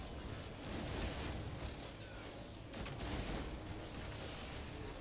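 Gunfire and blasts in the space game No Man's Sky, a dense continuous barrage of shots and rumbling explosions with two brief surges, fairly loud and without speech.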